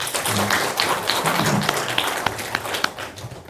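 A church congregation applauds with steady, sustained clapping, moderately loud and diffuse across the room, with a few sharper claps standing out near the end.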